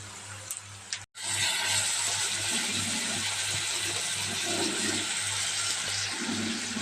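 Prawns frying with tomato in a pan for a tomato-prawn and ridge gourd dish, giving a steady close sizzle that runs almost the whole time, broken only by a brief dip near the start, with no talking.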